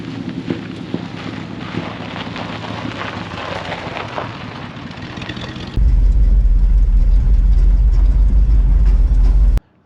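An International 4x4 truck with a worn, slipping clutch rolls down the road at about 25 mph, a steady engine and road rumble under wind buffeting, then a loud, heavy low drone takes over for the rest, ending abruptly.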